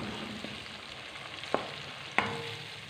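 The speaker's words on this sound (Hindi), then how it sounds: "टमाटरों को हमने अच्छी तरीके से भून लेना है ताकि ये टमाटर इसमें मैश हो जाए।" Tomatoes with spices fry in a pan for a spinach and potato dish, a soft steady sizzle underneath with a couple of sharp clinks of a spoon stirring against the pan.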